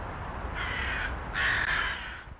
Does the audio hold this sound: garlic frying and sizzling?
no